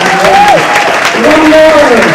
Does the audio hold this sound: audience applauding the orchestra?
yes